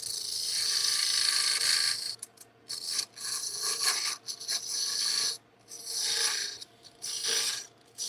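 Wood is shaved down by hand with a scraping tool, giving repeated rasping strokes of several seconds each, with brief pauses between, close and loud with no talk.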